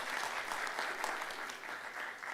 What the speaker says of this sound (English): could you give to him a big round of applause, please?